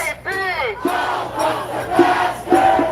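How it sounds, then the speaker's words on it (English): Protest crowd pouring into the intersection of 3rd and Fairfax in Los Angeles, a loud, continuous roar of many voices with rising cheers and shouts swelling in waves, near and dense throughout. "And the crowd now enters the intersection of 3rd and Fairfax."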